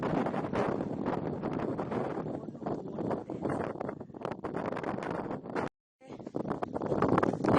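Strong wind on the coast at Cape Kamui, Shakotan, Hokkaido buffets the microphone in a continuous roar with rustling gusts, briefly cutting out for a moment before resuming.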